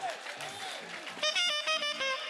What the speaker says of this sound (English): A round of applause for the Aborgidi.